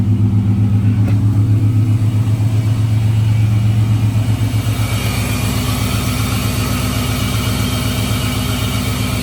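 A 1975 GMC Jimmy with a 6-liter engine, electric cooling fans and an aluminum radiator runs nearby: a loud, deep idle that settles into a lumpy, evenly pulsing throb, with a steady background whir.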